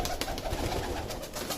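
Pigeons, a hen among them, coo softly and steadily at a loft where chhatri pigeons are kept, a low continuous murmur with no talk over it.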